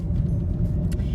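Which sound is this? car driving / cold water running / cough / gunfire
car driving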